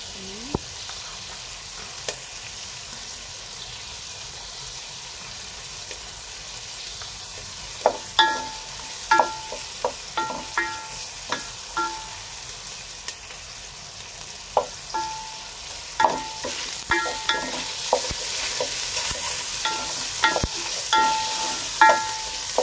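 Garlic sautéing in a pan. A steady, gentle sizzle hisses throughout, and the later part is punctuated by clear metallic clinks and scrapes of stirring, with no one speaking.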